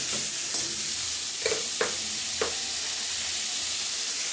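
Grated beetroot fries in a hot pan with a steady, close sizzling hiss, broken by a few soft clatters as it is added and stirred.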